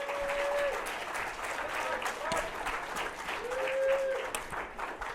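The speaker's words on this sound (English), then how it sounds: "Round of applause." Audience applause fills a community health forum hall, steady dense clapping throughout with a brief whistle-like tone over it.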